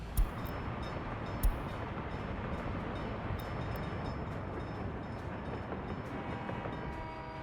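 A train runs in the city-building game Workers & Resources: Soviet Republic, with a continuous rolling rumble and a few sharp clicks, steady throughout and with no voices.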